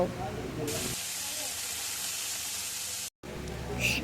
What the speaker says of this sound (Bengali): ওই কড়াতেই সিদ্ধ করা ডিম ভেজে নেব